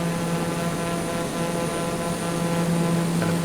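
An aircraft engine drones steadily in Microsoft Flight Simulator during a rainy, windy, dark approach, with a constant propeller-like hum and a faint high whine, loud and unbroken.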